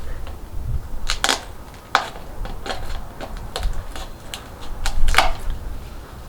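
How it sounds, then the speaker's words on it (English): A blade cutting drainage holes in the bottom of a plant pot for fig cuttings, giving a series of crisp clicks and snips spaced irregularly over a low background hum, close and moderately loud. "I'm gonna go around the bottom and I'm gonna cut out some drainage holes"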